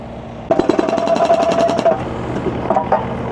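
A hydraulic breaker pecks up an old concrete garage base on a farm, kicking in abruptly with a fast, loud hammering burst over a rumbling machine, then easing to slower, irregular knocks.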